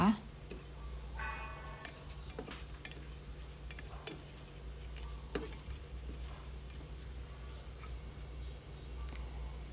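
Onion stir-fried in a pan gives a low, steady sizzle with scraping and ticking from a stirring utensil, and someone talks softly over it.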